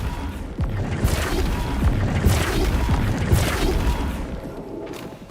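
Flipendo spell impacts in Hogwarts Legacy combat, a dense barrage of booming, crashing hits and rumbling bursts that stays loud and continuous throughout, with no speech.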